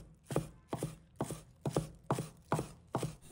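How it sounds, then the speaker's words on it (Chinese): A knife chops scallion leaves on a cutting board in a steady rhythm of about seven crisp, close thuds, evenly spaced roughly half a second apart. "把它切成葱花。"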